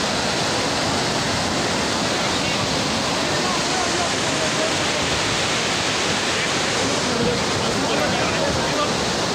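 A raging river torrent surges below Tapovan in Chamoli, Uttarakhand, after a glacier burst, a loud, unbroken roar of rushing floodwater filling everything with no letup.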